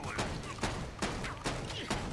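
Guard tower firing in Guild Wars 2, heard as several sharp game shots in a steady rhythm, about five bursts over a couple of seconds, loud and close, with some voice underneath.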